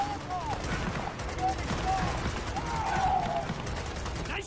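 Gears of War 4 gunfire crackles as a steady fusillade of rapid shots with mechanical weapon noise, mixed under game voices and ambient battle sound.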